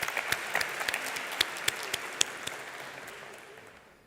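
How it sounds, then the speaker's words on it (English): Audience applause after a talk at an energy summit, scattered clapping with distinct sharp claps standing out over a soft wash, gradually fading away over about four seconds. "Another round of applause."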